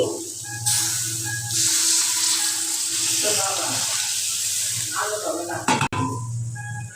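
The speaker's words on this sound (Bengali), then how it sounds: "এখন আমি এ পর্যায়ে দিয়ে দিব অল্প করে পানি তো দিয়ে দিচ্ছি পানি" Water poured onto frying meat in a pan sets off a loud hissing sizzle that rises suddenly and then tapers, with a short clunk near the end and a voice speaking over it.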